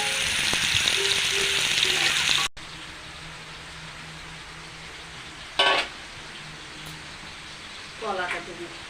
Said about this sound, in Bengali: মাছ আস্তে আস্তে ভাজা হবে